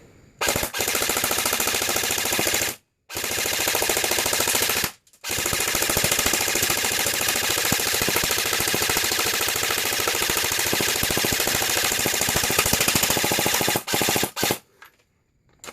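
Bursts of rapid full-auto fire from an airsoft rifle with a two-piece rapid-fire barrel and a new hop-up, fed from a PTS EPM magazine; loud, dense rattling in long strings broken by two short pauses, with no talk.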